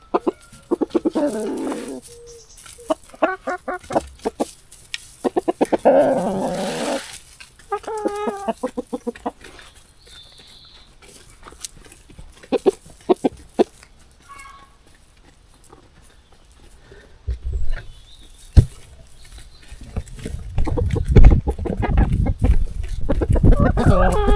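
Hens clucking in a chicken coop on a farm, repeated close clucks and calls in bursts, later joined by rustling and shuffling movement noise.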